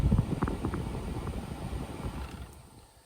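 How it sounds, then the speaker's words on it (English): A Dodge, Jeep, Ram or Chrysler heater blower fan runs on speed 4 after a blower-speed repair, a steady broad airy rumble that is loudest at first and fades toward the end. "Ooh, okay, so blower 4, there we go, it's working."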